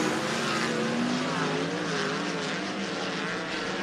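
Race cars circling the track at Cottage Grove Speedway in Oregon, with a steady layered engine drone at a distance, pitches shifting as several cars run together, continuous and moderately loud.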